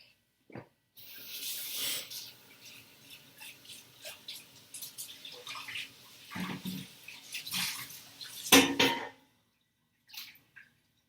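Tap water runs into a sink while a pot is rinsed out, a steady splashing rush with clanks and bumps of the pot, stopping near the end.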